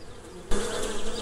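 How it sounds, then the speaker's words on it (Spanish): A bee buzzes close by in a springtime setting, a brief continuous drone that swells louder partway through, heard alone. "Además del canto de los pájaros, podemos escuchar a las abejas."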